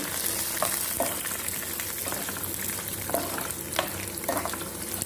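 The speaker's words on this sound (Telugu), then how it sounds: "ఆవాలు ఒక స్పూన్ అనుకోండి. ఇప్పుడు వీటిని తీసుకుందాం ఇలాగా ఫ్రై" Mustard seeds crackle and pop in hot oil, with scattered sharp ticks over a continuous soft sizzle.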